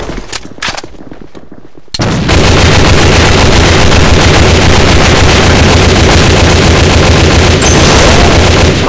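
Gunfire in the online shooter AVA, a few separate sharp shots, then a sudden loud blast leading into very loud sustained automatic fire and rumbling combat that fills the rest of the clip.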